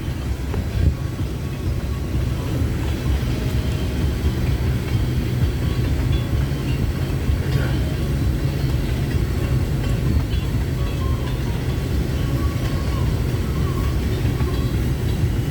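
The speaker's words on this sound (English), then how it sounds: "we got other switchers doing stuff in the yard" Steady low rumble of slow-moving CN freight switcher locomotives in a rail yard at Sarnia, continuous and droning throughout with faint clanks and squeals on top.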